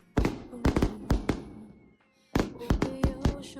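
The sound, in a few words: fireworks exploding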